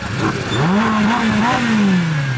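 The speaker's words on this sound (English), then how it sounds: "we also have these nice Ducati bikes leaving" Ducati motorcycles pulling away at a supercar and superbike meet, engines revving with a rising, swooping pitch that climbs and then slowly falls as they leave, loud and close throughout.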